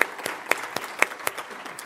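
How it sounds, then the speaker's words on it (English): A brief burst of audience applause after a startup pitch presentation at a trade event: scattered, distinct claps at a quick rhythm, fairly close and not very dense. "I'd like a round of applause for Jay and his presentation"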